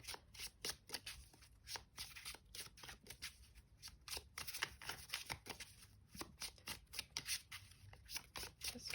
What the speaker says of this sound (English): I'm gonna give this one last shuffle